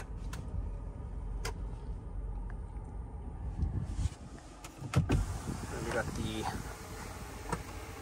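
The electric backrest adjustment motor in a 2023 Land Rover Defender 110 30th Anniversary gives a faint whirring drone inside the cabin, mixed with clicks and handling noises, heard close and without clear speech.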